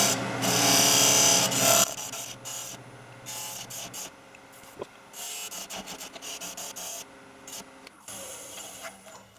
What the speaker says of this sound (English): I'm just using a parting tool.